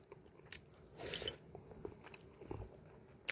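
Fried egg and kimchi being bitten and chewed close to the mic, soft wet crunches and mouth sounds in a quiet room, a slightly louder bite about a second in, no talking.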